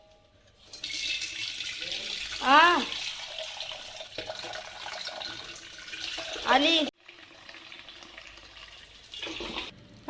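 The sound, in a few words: watering plants with water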